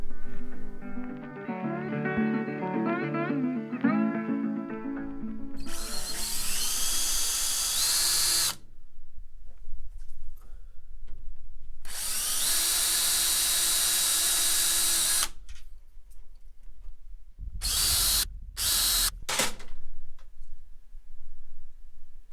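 A power drill drives a wax-coated screw into hardwood in a woodworking shop, three loud whining bursts of several seconds each separated by quiet pauses, with faint clicking and handling sounds between them.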